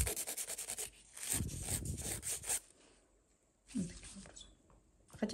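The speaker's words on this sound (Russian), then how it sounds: "Материал пилится очень-очень круто, очень мягко. Обожаю пилить гель." Nail file rasping across soft gel on a fingernail during nail extension, in short repeated strokes near and fairly loud, pausing midway, with a person talking in between.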